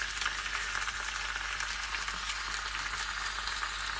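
Lemon sole sizzling skin side up in a hot pan, a steady, close, even hiss of frying fat that holds unbroken throughout with no talk.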